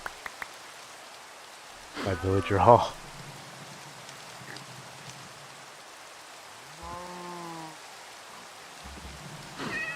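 Steady rain falling in Minecraft during a hardcore survival game near a villager trading hall, a soft continuous hiss throughout with brief game sounds and a person speaking over it.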